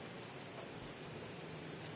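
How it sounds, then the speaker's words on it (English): Steady rain falls in an American football video game, a Patriots vs Dolphins match, as a dense, even hiss that continues without pause. "The rain set to continue as we are underway in the second half."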